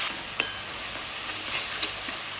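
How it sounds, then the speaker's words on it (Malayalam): Onions and chillies fry in a pan with a steady sizzle, broken by a few soft scrapes as they are stirred, close and alone without talk. "വെച്ച ഉള്ളി മുളകും എല്ലാം അതിലിട്ട് നന്നായി മൂപ്പിക്കണം."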